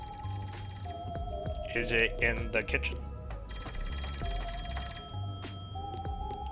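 A telephone in the video game Rain Code rings repeatedly in steady electronic trills, with game music and character voices talking over it.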